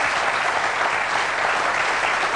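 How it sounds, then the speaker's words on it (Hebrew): An audience claps steadily and densely for a couple of seconds, a loud, even wash of many hands with no voices standing out. "ובאמת תודה רבה לכם שמחיתם כפיים"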